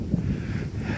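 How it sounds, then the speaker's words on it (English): Brief gust of wind outdoors along a shoreline trail on a blustery day, a low buffeting rumble against the microphone lasting about a second with no voices. "it's been gusting today"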